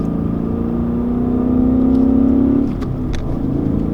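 A 2015 Mustang GT engine hums and rises steadily in pitch as it accelerates, then eases off near the end, heard from inside the car.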